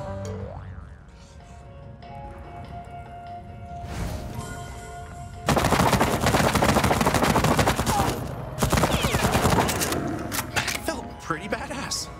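Gunfire is pumped into a huge obese zombie in Zombieland: Double Tap. Rapid loud bursts of shots come in two dense stretches after a quieter opening with a metallic boing, and someone talks over it.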